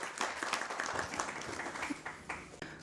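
A modest audience at a rural poetry gathering claps to welcome a poet, with scattered uneven claps over a soft background for a few seconds.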